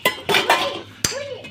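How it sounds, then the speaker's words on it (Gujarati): Dishes being washed: a few sharp clinks and clatters of utensils and pots in quick bursts, close by, with a faint voice-like tone in between. "વાસણ થઈ રહ્યા છે"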